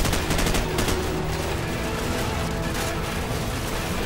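Dense, rapid assault rifle fire in Call of Duty 4 keeps up a continuous loud rattle of overlapping shots and booms, with no voices over it.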